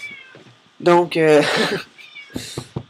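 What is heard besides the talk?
cat meowing on bed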